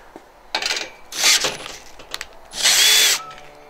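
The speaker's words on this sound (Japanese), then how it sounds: "このドライバードリルで緩めるとか、締めるときもある程度のところまで締めて" A HiKOKI DV12DD cordless driver drill drives a screw in short bursts, three whirring runs of rising effort separated by brief pauses, close and loud with no talk.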